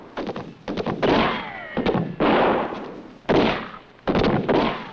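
Rifle gunfire in a 1960s western film scene: four or five sharp, loud shots in quick irregular succession, each followed by a ringing, ricocheting tail, with no talking.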